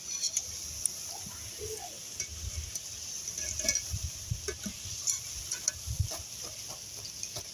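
Rice pakoras frying in hot oil and being stirred, a faint steady sizzle broken by soft scattered clinks and scrapes of the utensil.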